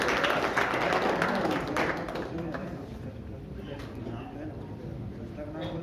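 An audience at a Jain poets' association gathering in Raipur claps to welcome its national president, with dense, lively applause for about two seconds that then thins into scattered claps and room noise.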